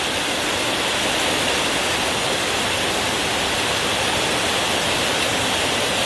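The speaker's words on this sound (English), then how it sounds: "A river is flowing in my street." Flash-flood water rushes down a residential street during an April storm in Chico, California, a loud continuous broadband roar of flowing water that stays unbroken throughout with no voices.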